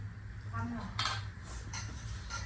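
Cutlery and dishes clinking as someone sits down to eat a meal at a sweet shop, a few sharp metallic chinks and scrapes close by over a low background hum.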